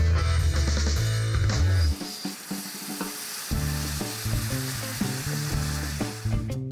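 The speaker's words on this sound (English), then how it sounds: "And then they poured caramel sa isang sizzling plate" Loud, steady sizzling and crackling as caramel is poured onto a hot sizzling plate, with a tonal musical background running underneath throughout.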